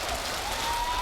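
Audience applause during a Siege X roadmap presentation for the game, a brief wash of dense clapping from a crowd, steady and fairly loud with no speech.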